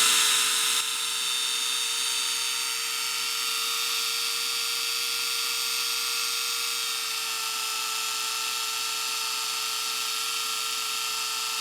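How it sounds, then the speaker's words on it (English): A power drill runs continuously, boring two holes through a plastic cap, with a steady whine and a near constant motor tone from start to finish, close and moderately loud without any talk. "it's just a matter of holding it together and drilling 2 holes"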